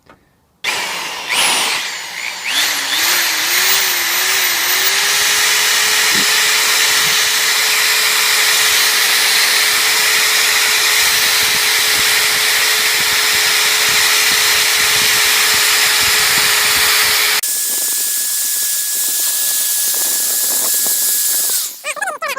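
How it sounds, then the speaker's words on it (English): A power drill runs loud and continuous for a long stretch drilling out a sheared-off car antenna screw, its motor whine steadying, then shifting in pitch near the end. "I'm going to drill out this bit"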